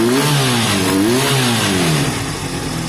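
A Honda CB250 motorcycle engine runs steadily up close, its low throbbing note rising and falling slightly as the revs shift, loud and continuous throughout with no talking.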